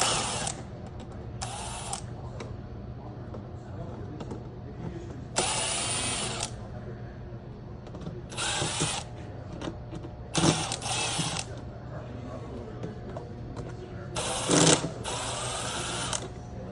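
Power drill backing screws out of a heat pump water heater panel, several short high whirring bursts of varied length separated by pauses, close with faint handling noise between and no talk.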